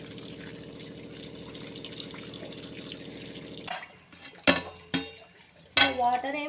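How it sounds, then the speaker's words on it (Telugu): Water is poured off cooked rice in a pot, a steady pouring stream that then gives way to clanks and scrapes of the pot and utensils, close by. "ఇలా వాటర్ అంతా ఉంపేసుకోవాలి ఏమీ లేకుండా"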